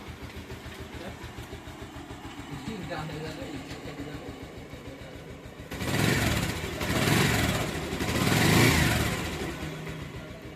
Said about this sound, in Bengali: বাইকটির সাউন্ড একদম নতুন গাড়ির মতো হয়ে গেছে একদম ক্লিয়ার সাউন্ড হয়ে গেছে